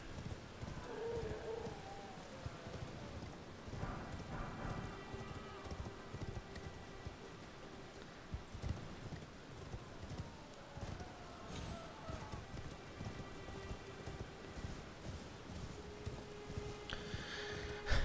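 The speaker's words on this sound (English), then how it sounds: "The horse turning around is scary." Horse hooves clip-clop at a steady, continuous rhythm in the video game Elden Ring, heard close and moderately loud over faint ambient noise for the whole stretch, with some speech-like sounds mixed in.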